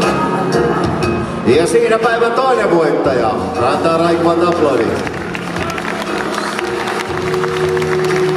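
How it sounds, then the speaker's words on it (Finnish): A crowd at a bodybuilding competition applauds and cheers the winner, sustained clapping and crowd noise in a large venue, with an announcer's voice and music running over it. "Antaa raikkaat aplodit."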